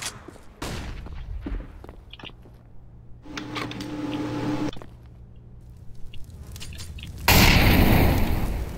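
A flashbang grenade in the video game CS:GO, with scattered game clatter and a steady hum before a sudden loud, bright burst near the end that rings on.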